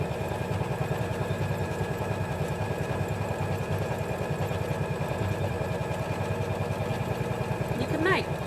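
Janome 550E embroidery machine stitching out a design in the hoop, a steady fast mechanical chatter running without pause throughout, with a short rising whine near the end.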